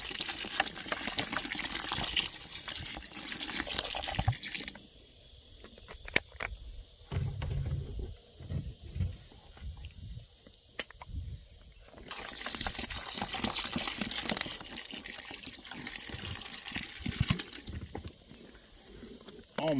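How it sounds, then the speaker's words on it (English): Water runs from a tap into a container, topping up a molasses mix for deer feed; a steady splashing trickle starts and stops several times, loud and close, with a quieter stretch in the middle. "all I'm going to do is top it with some water"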